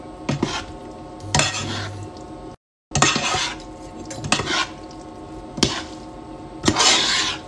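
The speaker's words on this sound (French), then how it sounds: "Je vais venir mélanger mes pâtes dans la sauce." Cooked pasta being stirred into sauce in a pan, giving several scraping, clinking utensil strokes against the pan with soft wet squishing between them, fairly close and with no talking.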